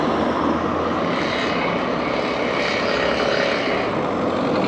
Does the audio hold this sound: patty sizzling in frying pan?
no